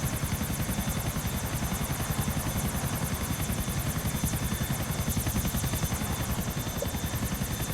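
An Annihilator helicopter in Grand Theft Auto IV drones close by with a steady, fast rotor thrum and engine buzz, unbroken and even for the whole stretch.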